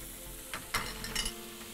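Lemon juice and marinade hit hot oil in a pan for frying onions, giving a steady low sizzle with a couple of brief louder crackling bursts.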